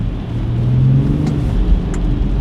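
A turbocharged 265 hp car with a smaller and a larger turbo accelerates hard outside sport mode, its engine giving a loud, close, steady low rumble and whir that swells as it pulls.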